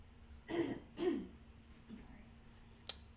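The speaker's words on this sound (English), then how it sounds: "Clearing your throat." Two short, soft throat-clearing grunts at close range in a quiet room during miniature model building, followed later by a faint click.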